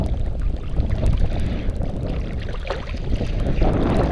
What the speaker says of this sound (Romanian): nu-ți dai seama cât de tare poate vântul